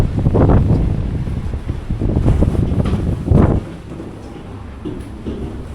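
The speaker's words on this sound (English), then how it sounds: "the wind is catching" Gusts of wind rush and buffet the microphone in several loud bursts on a seaside pier railway, then ease to a quieter whoosh toward the end.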